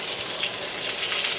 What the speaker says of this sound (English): it is frying right now. Things are popping, the oils are popping.